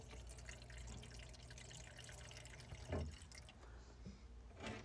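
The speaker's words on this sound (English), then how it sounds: "Water's coming in after it goes back." Water trickles and drips into a Samsung icemaker during its fill cycle, a faint, steady liquid hiss with one brief louder splash partway through, heard alone at close range.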